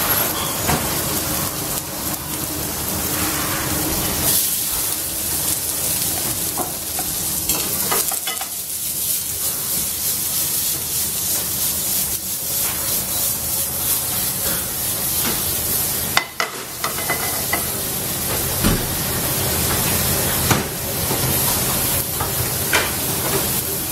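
Meat sears steadily in a hot pan for about two minutes per side, a continuous loud sizzle and crackle with spitting pops, close up and without talk.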